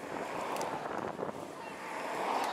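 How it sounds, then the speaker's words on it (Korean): Strong wind at 16 m/s roars across an open Icelandic coastal road, a dense continuous buffeting rush with gusty swells and microphone rumble, no voices. "바람을 확인해보니 초속 16m로 불고 있다"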